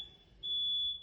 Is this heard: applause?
no